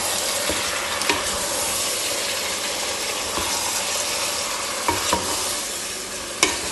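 Beef is stirred and fried in a pan with garam masala spice powder, making a steady, loud sizzle throughout with occasional scrapes and clicks of the spoon against the pan, close up and with no talking.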